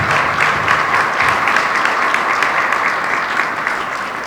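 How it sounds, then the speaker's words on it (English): A crowd at a chamber of commerce annual meeting applauds loudly and steadily, a dense wash of clapping with no pauses throughout. "Let's give them all a big round of applause."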